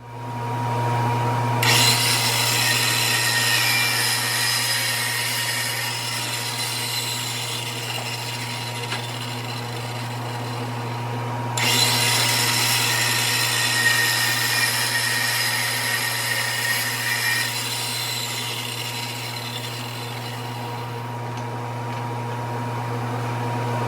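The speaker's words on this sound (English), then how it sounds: "it is time to move over to the radial arm saw" A radial arm saw cuts wooden boards for a cajon shell, a loud, sustained motor whine with two long cutting passes whose pitch rises as the blade bites, over a constant low hum.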